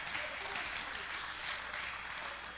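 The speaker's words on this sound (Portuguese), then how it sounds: "Você pode aplaudir" Soft, distant applause from a church congregation, a continuous wash of clapping that stays even and fairly faint throughout.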